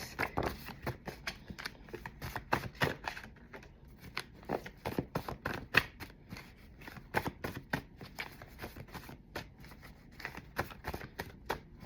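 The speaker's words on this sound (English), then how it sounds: "One more shuffle." Tarot cards are shuffled by hand in quick, crisp bursts of riffling and slapping, close and fairly quiet, repeating irregularly throughout with no talk.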